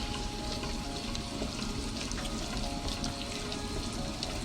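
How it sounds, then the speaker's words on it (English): Chickpea flour stirred into melted butter in a pan over medium heat, giving a continuous close, dense sizzle and scraping hiss with no pauses. "Now we add in the besan and start stirring it straight away."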